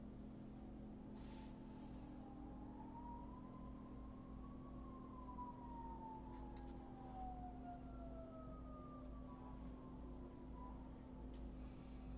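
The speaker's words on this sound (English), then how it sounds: "A lot of sirens today around here." A distant siren wails, rising and falling slowly over a steady low hum of background noise, with no voices.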